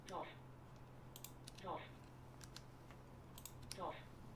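Keys clack on a mechanical keyboard fitted with Zealio switches, a few crisp, separated keystrokes at a low level over a steady background hum.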